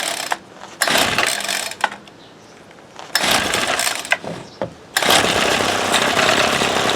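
A small two-stroke engine on a Ryobi SS30 string trimmer runs in loud, ragged bursts that cut out and surge again, sputtering unevenly as if struggling to keep going, with brief clicks between runs.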